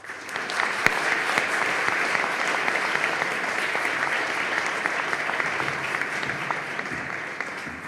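Sustained audience applause at a university research presentation on psychedelics, dense steady clapping filling the room at even loudness throughout with no voices.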